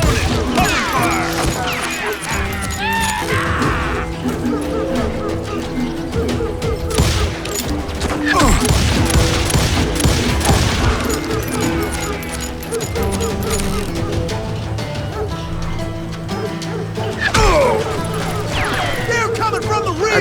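Scattered gunfire rings out from a posse of deputies surrounding a homestead in the video game Call of Juarez, with repeated shots and crashes mixed under loud voices and music throughout.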